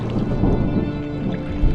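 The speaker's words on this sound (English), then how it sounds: "Was that thunder? Still distant." In the game Draugen, distant thunder rumbles low and steady beneath water and wind noise around a rowboat at sea, with no voices.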